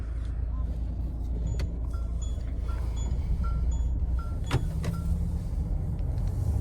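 Door locks of a Mahindra XUV700 AX5 diesel automatic clicking shut while it drives, a sharp click standing out over steady road and cabin hum, with talking throughout.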